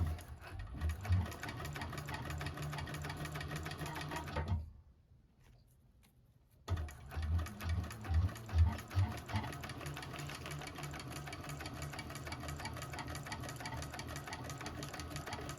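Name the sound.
1341 cylinder arm sewing machine stitching a bag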